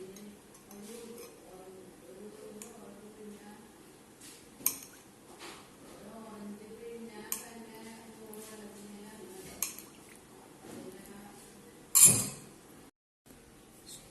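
Chakkakuru unda sweet mixture, made with jackfruit seeds, being mixed in a dish gives soft scraping and scattered light clinks of a utensil against the dish, with one louder clatter near the end over a quiet background.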